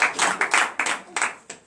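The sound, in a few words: applause and clapping from congregation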